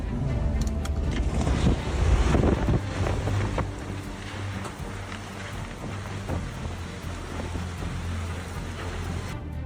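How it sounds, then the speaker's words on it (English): Dust storm wind sweeping through a construction site, loud gusting roar buffeting the microphone, strongest early then settling into a steady rushing blow with occasional clatter. "A dust storm swept through a construction site like a sudden gust of wind, bringing chaos and dust."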